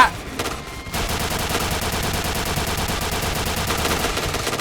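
Sustained automatic gunfire sprays in a shooting video game, a loud, dense, continuous burst of rapid shots that starts after a brief opening pause and runs unbroken to the end.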